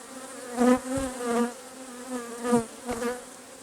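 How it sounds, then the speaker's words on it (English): Honey bees swarm around an open beehive, their buzzing droning close and loud with several individual bees swelling past in rising and falling passes over a constant hum. "there's a lot of bees"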